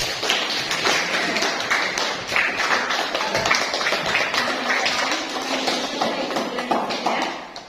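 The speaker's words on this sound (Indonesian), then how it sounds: "Ayo kita beri aplaus kepada Bunga" Classroom applause for a student named Bunga: a steady, dense patter of many hands clapping together, fairly close and even in loudness for several seconds, with no talking over it.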